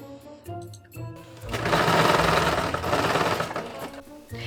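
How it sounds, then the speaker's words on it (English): A sewing machine stitches cuffs onto a leather jacket lining, a close, fast whirring run that swells for a few seconds between quieter handling noises, with no talking. "I decided to sew the cuffs to it now so it's easier to assemble it later"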